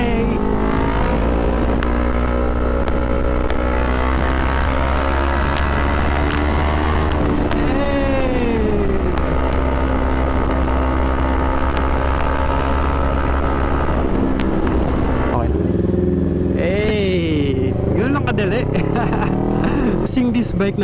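A CF Moto NK400 V4 motorcycle cruises along an expressway, its engine droning steadily with wind rush, shifting pitch as it accelerates and eases off, loud and continuous throughout.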